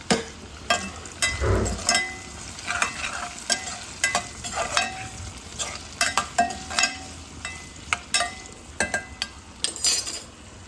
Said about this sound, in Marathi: अरे बघा ही अशी आपण शिमला मिरची टाकलेली आहे.